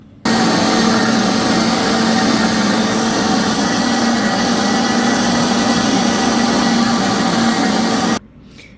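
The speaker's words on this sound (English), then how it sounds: "So now we're going to blend this up." A blender whirs steadily for about eight seconds as it blends avocado tofu mayo, a loud continuous motor drone that starts and stops abruptly.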